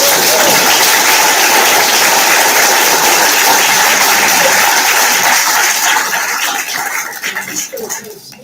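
An audience at a local history talk applauds, dense and loud clapping that holds steady, then thins out and fades over the last couple of seconds.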